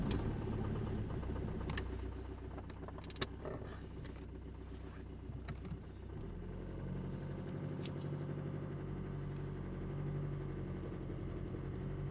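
An Opel Astra H with a loss-of-power fault heard from inside on a test drive: a steady low engine hum that eases lower midway, with faint scattered ticks and clicks and no voices.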